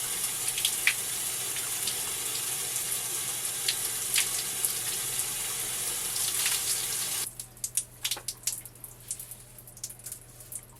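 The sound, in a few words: water rinsing hair at the sink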